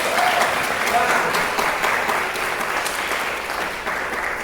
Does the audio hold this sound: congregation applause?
yes